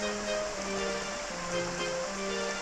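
Steady rushing water draining away in Ocarina of Time 3D, Master Quest, with rain falling outside the village, a continuous close wash of noise with a faint low tonal hum beneath.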